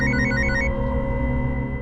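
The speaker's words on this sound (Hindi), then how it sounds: "सब बबीता का ही फोन आ रहा है।" A mobile phone rings with an incoming call in a dramatized crime scene: a short repeating ringtone melody plays for under a second over a low steady background, then fades into the ongoing hum.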